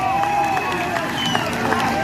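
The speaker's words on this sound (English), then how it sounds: "Let's give a round of applause for our first wrestler, Matthias Kangas" A crowd at a youth wrestling meet applauds and cheers as a wrestler is introduced, a steady wash of clapping and noise with voices mixed in throughout.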